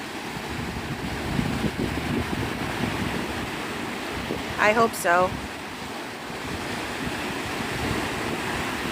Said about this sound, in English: Can you guys hear the waves clearly?